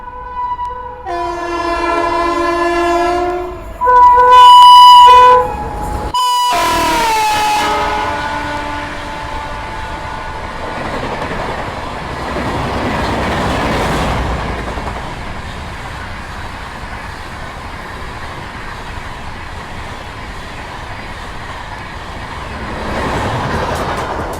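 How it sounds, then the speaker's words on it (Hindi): An Ahmedabad–Prayagraj Express train passes Vatva railway station, opening with loud sustained horn blasts, then a steady rolling rumble of wagons that gradually fades, with no talking. "तो अब अगला जो हम कैप्चर करेंगे वो होगा प्रयागराज एक्सप्रेस का, जो कि अहमदाबाद से प्रयागराज के बीच में चलती है।"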